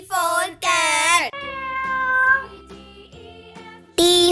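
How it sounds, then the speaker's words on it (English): A cat meows in several drawn-out, wavering cries, loud and close, with short gaps between them and a brief tinkling accent near the end. "C for cat."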